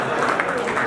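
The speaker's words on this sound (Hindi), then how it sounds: "इनके लिए तालियां जी।" At a Gilgit Baltistan Day celebration in the USA, an audience claps for a guest in a short burst of even, close applause with voices mixed in.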